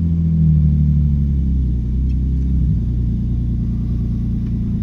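A BMW 328 engine keeps revving and accelerating after the clutch is released, a loud steady low rumble close by that dips slightly mid-way and carries on with no talk.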